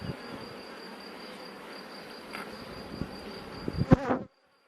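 Honeybees hum steadily inside a beehive, a moderate drone with faint knocks and a sharper handling sound near the end before everything cuts off abruptly.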